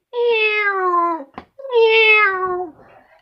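A person imitates a cat, giving two long, drawn-out meows with a short click between them, close and clear against silence.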